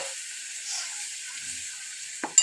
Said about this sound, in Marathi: पालक मी छान असं तेलामध्ये मस्त परतून घेणार आहे